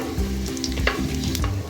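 Cumin seeds sizzle in hot ghee in a pan, a steady close frying crackle with a few stirring scrapes throughout, no voices.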